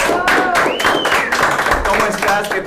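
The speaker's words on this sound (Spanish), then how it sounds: "Un fuerte aplauso." An audience claps for a guest, a prefect, arriving for a studio interview, with scattered claps and taps mixed with talking and a rising whistle-like tone over the top.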